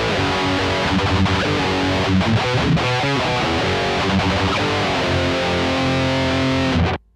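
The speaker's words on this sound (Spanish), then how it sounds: "Esto es el sonido de la salida directa del Power Stage," Distorted electric guitar played through a Seymour Duncan Power Stage 200 amplifier's direct output, loud sustained chords and riffs with a brief choppy passage midway, ringing steadily until cutting off abruptly near the end.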